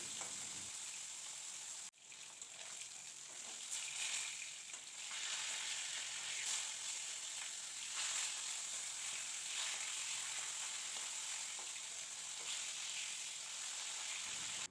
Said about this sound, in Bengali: আমি আর এক পাশ উল্টে ভাজা করে নেব